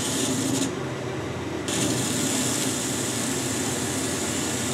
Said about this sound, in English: Right, we're just going to machine the end of the bar square.